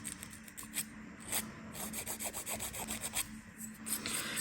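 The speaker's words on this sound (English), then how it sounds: "So this is why I really don't find any difference filing both or one direction" A nail file rasps across fingernails during a manicure in quick, soft repeated strokes, faint and close with a steady scratchy rhythm and no talking.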